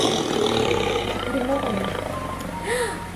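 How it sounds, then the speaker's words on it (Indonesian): A tiger's roar is played as a recorded animal sound for a children's lesson, a rumbling, drawn-out growl rising and falling for a few seconds with other tonal sounds mixed over it. "Betul, bunyi harimau."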